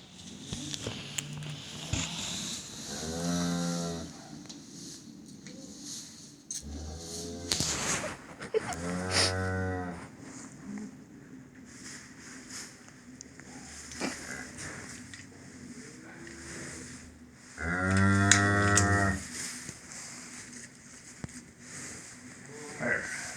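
Cattle, cows with calves, lowing several times in drawn-out moos from close by during ear-tagging and vaccinating work on a farm, with other livestock sounds and background noise between calls.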